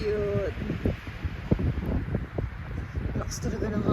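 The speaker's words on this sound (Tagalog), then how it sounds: "Lakas talaga ng hangin." Strong wind gusting outdoors on a road trip through the historic town of Pabellón de Hidalgo, buffeting the microphone with rumbling low bursts and rustling, while people talk intermittently underneath.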